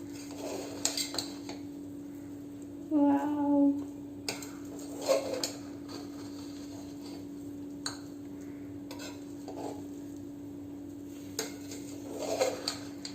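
Cooked soya chunk biryani rice is mixed in a pot, with quiet intermittent scrapes and clinks of a spoon against metal over a steady hum, and a short stretch of soft talk partway through.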